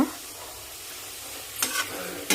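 Spinach curry simmers and fries in a pan, a steady low sizzle with two brief louder stirring scrapes near the end, close and with no talk.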